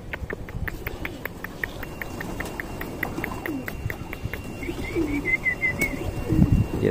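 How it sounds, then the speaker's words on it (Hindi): Wild pigeons and black-and-white pigeons coo softly and repeatedly nearby over quiet background chatter, with a burst of wing flapping toward the end. "ये देखिए वाइट ब्लैक एंड वाइट कबूतर बार बार उड़ के बैठ रही है"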